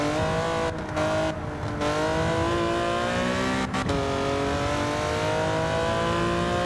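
A Porsche 917 race car in a racing video game revs hard and loud throughout, its engine note climbing steadily, with a few quick dips at gear changes.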